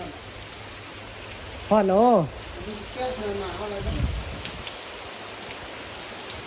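Steady rain patters at a forest temple in Luang Prabang, a soft continuous wash under someone speaking in Lao, with a brief louder moment near the start.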